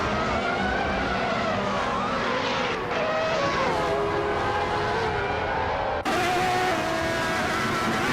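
1995 Formula One race cars scream around the Tsukuba circuit in a racing game, high-revving engines whining and shifting continuously, loud and close, with a sharp change of pitch as the cars pass.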